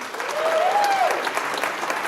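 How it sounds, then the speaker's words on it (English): An audience at a chamber of commerce business excellence awards event applauds steadily at moderate volume, a dense wash of clapping that holds for a couple of seconds alongside a faint whistle. "All right, a big round of applause for Judy."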